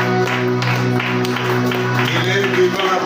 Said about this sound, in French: applaudissez pour lui avec les cris de joie